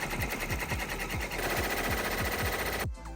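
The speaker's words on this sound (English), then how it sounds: "So I uploaded the design and now I have the machine on." A computerized embroidery machine stitching a digitized design, with a fast, steady mechanical needle rhythm and regular thumping pulses under a dense whir, close and loud, stopping abruptly near the end.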